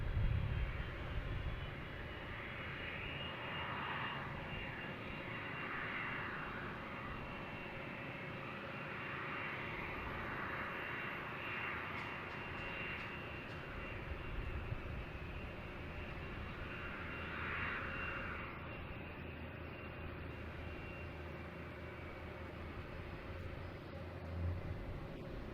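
Airplane passing at Boston Logan Airport, a steady distant engine roar with low rumble that holds evenly throughout, faint and unchanging, with no voices.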